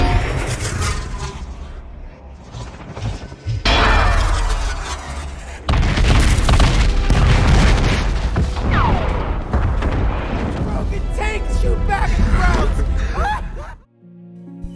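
A wartime film scene of a cannon firing and a German ammunition depot blowing up at Stalingrad: a loud booming blast followed by sustained roaring explosions and rumbling debris that fill nearly the whole stretch before cutting off.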